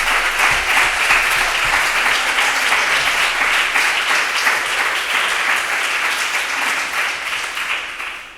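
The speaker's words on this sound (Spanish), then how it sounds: "Vamos a darle otro aplauso, que se lo merece." Audience at a flamenco and poetry workshop applauding the artists, a loud, sustained burst of many hands clapping close by that holds steady and only begins to fade in the last second.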